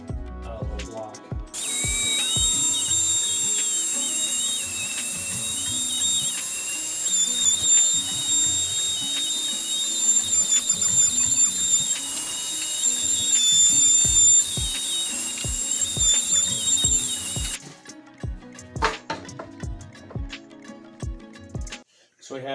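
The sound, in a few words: router routing steel door jamb freehand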